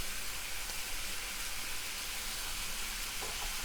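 Butter sizzling in a hot frying pan with mushrooms for a full English breakfast, a steady loud hiss and crackle throughout.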